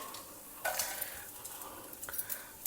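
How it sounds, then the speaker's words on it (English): Mustard seeds, urad dal, chana dal and groundnuts fry in hot oil, a soft steady sizzle with a few sharper crackles and pops over a quiet background. "Add some mustard seeds, urad dal, chana dal. We will also add a few groundnuts for this."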